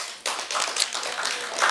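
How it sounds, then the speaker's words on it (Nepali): Loud, fast applause from an audience at a Nepali charity gathering starts abruptly and carries on steadily to the end with no voice over it. "जोरदार ताली"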